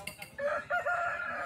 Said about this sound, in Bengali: ফার্স্ট যে মোরগটা দেখছেন আপনারা, খুবই সুন্দর মোরগ